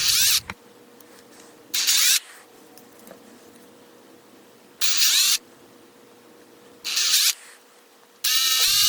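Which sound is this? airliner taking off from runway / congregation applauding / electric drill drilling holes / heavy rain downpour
electric drill drilling holes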